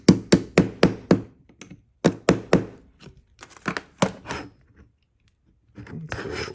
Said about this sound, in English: put the punch in, and use the hammer.